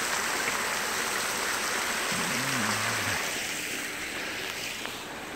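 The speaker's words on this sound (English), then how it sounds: "And the water cascading down." Water pours steadily down from an ice-hung spring in winter woods, a constant close rushing splash with no break for the whole stretch, easing slightly toward the end.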